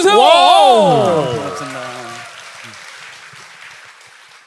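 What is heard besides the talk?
studio audience applause on talk show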